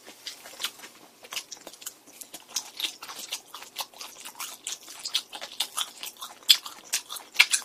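Spicy chicken gizzards are bitten and chewed close to the microphone, giving a steady run of crisp, crunchy bites and chewing with no talk.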